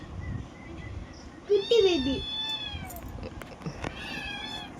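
A pet cat meows indoors, a couple of clear drawn-out meows standing out against a quiet room with faint background noise.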